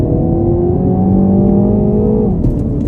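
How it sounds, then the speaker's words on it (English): A 2023 Mini Cooper S accelerates hard off the line, its engine a loud, close droning roar heard from inside the cabin. A quick gear change comes near the end. "We'll try out an acceleration off the line."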